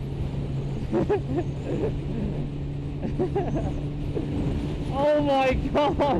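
Strong wind buffeting the microphone during a bike ride in a windstorm: a continuous low roaring rumble, with a voice exclaiming over it.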